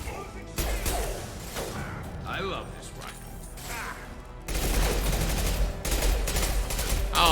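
Rifle fire from Mass Effect 2, dense bursts of shots crackling continuously through the whole stretch, close and loud, with game combat noise and a brief voice line in the middle.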